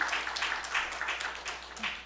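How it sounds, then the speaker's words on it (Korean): A church congregation applauds during a Sunday worship service, a steady, fairly faint patter of many hands clapping continuously throughout. "우리 하나님께 영광의 박수를 올려드립니다"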